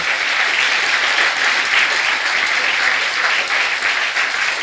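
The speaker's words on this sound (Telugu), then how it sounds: "గట్టిగా చప్పట్లు కొడదాం" Loud sustained applause from a large church congregation during a sermon, a dense even wash of clapping that holds steady throughout.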